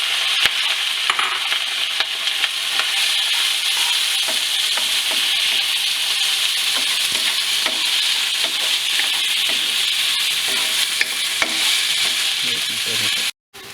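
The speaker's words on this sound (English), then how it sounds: "you can see how the onions are getting cooked" Onions frying in a pan for a Punjabi okra masala, a steady dense sizzle running throughout with scattered utensil scrapes and taps from stirring, close and loud, cutting off abruptly near the end.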